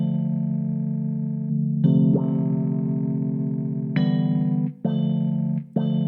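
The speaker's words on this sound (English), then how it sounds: "It has like a wah sound in there." Sustained synth chords for an Afrobeat and Amapiano track run through a Vox Wah effect plugin, with a buzzy filtered tone, chord changes and the effect cutting briefly in and out near the end, loud and without talk.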